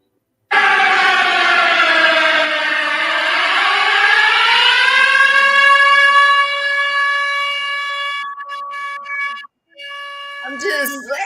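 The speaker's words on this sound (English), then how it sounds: "Sound the siren." A loud siren wail starts abruptly, dips and then climbs in pitch, holds a steady howling tone, and cuts off with a few brief clattering noises at the end.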